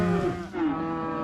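Mashona cross cattle penned after weaning give a loud, close, sustained moo lasting just over a second, its pitch sliding downward, with no talking over it.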